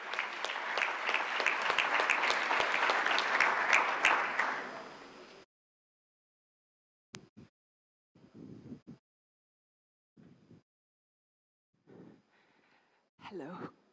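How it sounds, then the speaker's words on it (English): An audience at a West Africa regional summit applauds loudly for about five seconds, the clapping dense and sustained before it stops abruptly, followed by silence and a few faint scattered sounds and voices. "Round of applause, please, for Catherine"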